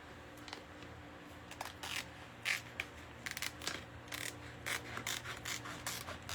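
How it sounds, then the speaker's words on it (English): Big scissors snip and rasp through paper in a run of short, irregular cuts, close but fairly quiet, with faint handling noise between the snips. "Use these big old honking scissors."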